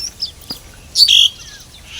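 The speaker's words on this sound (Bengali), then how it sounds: "আর পাশে পাখিগুলো ডাকছে দেখেছো কিচ কিচ কিচ কিচ করে" Birds feeding on dates in trees near a village field give a few bright, close chirps and tweets in short bursts, with a louder cluster of calls midway and brief quiet gaps between.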